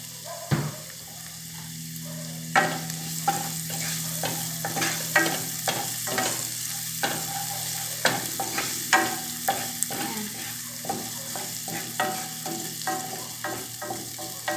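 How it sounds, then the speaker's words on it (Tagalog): Garlic sizzles and fries in a pan for chicken adobo, a steady close crackle broken by repeated scraping stirs. "Make sure not to burn the garlic"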